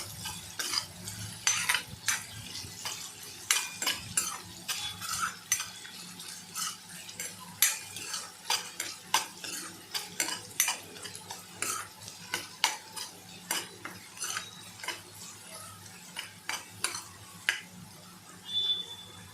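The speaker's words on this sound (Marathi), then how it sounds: "कांदा याच्यामध्ये चांगला आपल्याला परतून घ्यायचा आहे" Finely chopped onion sautéed in a pan for egg masala: a spoon scrapes and clinks against the metal over a soft, steady sizzle, in an uneven rhythm, close up, no talk.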